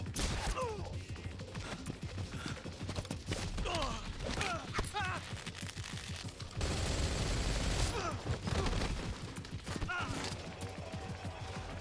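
Gunfire in the stealth video game Metal Gear Solid, with repeated sharp shots and bursts over a steady game backdrop, loudest in a dense stretch near the middle.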